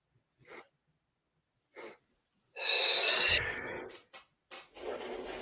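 Deep breathing exercise: a few short, soft breaths, then a long, loud, forceful inhale-exhale lasting about two seconds, followed by more brief breaths, close to the mic with no talking.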